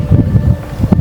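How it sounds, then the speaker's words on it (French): Gusty wind buffets the microphone outdoors, a steady low rumble swelling and easing in uneven puffs with a sharper gust near the end, with no talk. "Le vent se lève."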